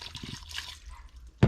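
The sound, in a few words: marinade poured into a vacuum marinade tumbler with beef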